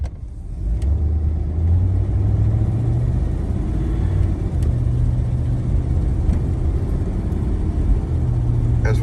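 A car cruising on Route 6 through Northwest Indiana in winter, the interior filled with a steady low road rumble and engine drone that holds even throughout, with no one talking.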